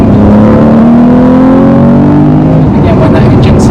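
A manual car engine accelerates hard in second gear, a loud close droning rev that climbs steadily in pitch for nearly three seconds before easing off.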